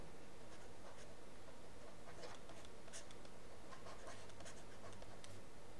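Chalk or marker writing on a board during a physics lesson on the Q factor of a circuit, giving faint, irregular scratchy strokes over a steady background hiss, no talking.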